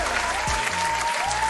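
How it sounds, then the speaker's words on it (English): Studio applause rolls in as a dense, loud wash of many hands clapping, with a low musical tone beneath it. "clap it up for that"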